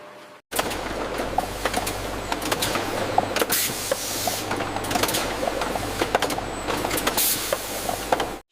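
A filling machine runs in a watermelon dessert factory, clattering with rapid repetitive mechanical clicks and thumps over a constant low hum, busy and continuous throughout.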